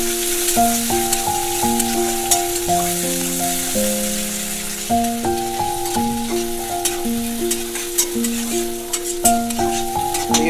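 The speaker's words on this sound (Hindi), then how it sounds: "अब इसमें थोड़ा प्याज, जो मैंने प्याज करके रखा था वो प्याज डाल देता हूँ" Onions sizzle in a hot pan with cinnamon for chicken masala, a steady broadband frying hiss with occasional stirring clicks, partly masked by melodic background music throughout.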